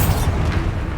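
A Bombarda spell blast from Hogwarts Legacy, a heavy sustained boom with rumbling low-end body and a bright burst at the start, loud and continuous for the full second with no talk.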